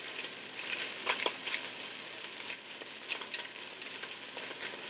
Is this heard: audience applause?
no